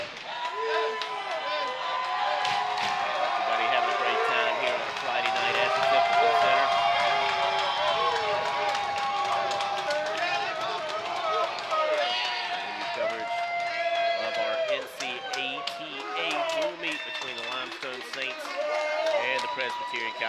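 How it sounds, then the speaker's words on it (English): Restless crowd murmuring and calling out in an arena at a Presbyterian College Blue Hose wrestling meet, a dense continuous din with scattered claps and shouts under commentary. "Crowd's starting to get a little antsy here, waiting on Blue Hose to be able to take the mat."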